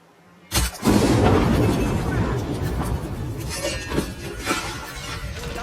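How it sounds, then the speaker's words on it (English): A sudden loud fuel explosion in Hitman 3 erupts after a moment of quiet, then a long roaring rumble with crackling debris and scattered clinks that slowly fades. "we're going to ignite the fuel and set off an explosion"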